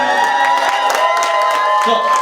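An audience at a tenth-anniversary fundraising evening cheers and claps loudly, with whoops and shouts rising over a continuous wash of applause.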